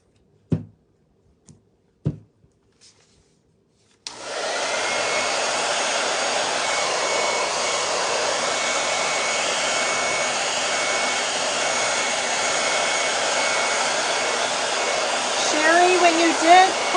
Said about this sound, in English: So I'm going to turn the hair dryer on again